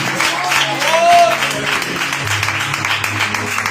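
A church congregation claps during a worship service, a loose, uneven patter of hands mixed with voices and shouts of praise, moderately loud throughout.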